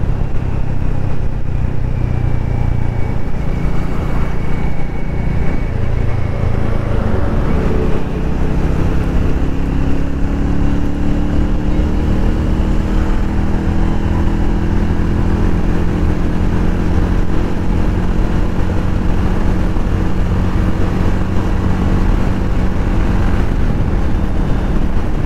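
A Hero Mavrick 440 motorcycle accelerates hard on the road, its engine note climbing and resetting through successive gear changes, loud and close throughout with no talk.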